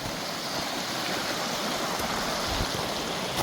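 River stream flowing over rocks on a hiking route, a steady close rushing of water with broad hiss and low rumble, continuous throughout and with no talk.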